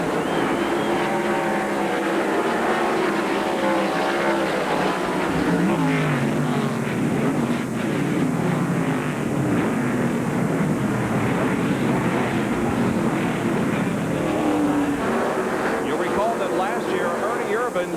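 Stock cars roar off at the green flag of the 1993 Sears Point race, a dense, continuous engine drone of the full field holding loud and steady throughout.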